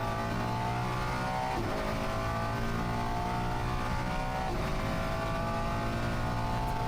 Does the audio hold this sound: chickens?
no